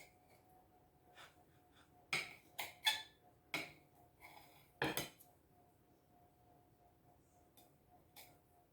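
A knife slicing through a cooked pork tenderloin on an angle, heard as a handful of sharp, crisp taps and knocks against the board, clustered in the middle and spaced by quiet pauses.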